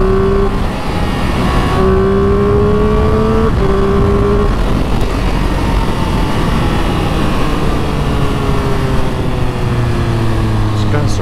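A 2022 Triumph Speed Triple 1200 RS motorcycle with its exhaust droning loud and close while riding, engine tones rising and shifting through gears over wind rush.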